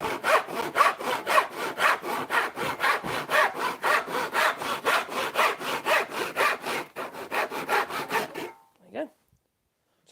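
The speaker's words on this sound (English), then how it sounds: "setting the saw up, power saw, I've done the cut" A power saw cutting an angled timber brace for a shutter or door, with a steady run of rapid, loud rhythmic strokes for about eight seconds before stopping abruptly, then a brief clatter and silence.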